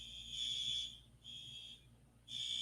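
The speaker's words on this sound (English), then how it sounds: "Got some damn alarm going off." An electronic alarm beeps in long repeated pulses, fairly faint and at a steady tone, with short gaps between them and no talking.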